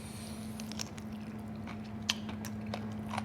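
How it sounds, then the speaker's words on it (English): Chewing on cartilage from a chicken ankle piece in tomato-based sauce at an Indian street food spot, close soft crunches and squishy bites scattered over a steady low background hum. "So I'm chewing on some cartilage as well."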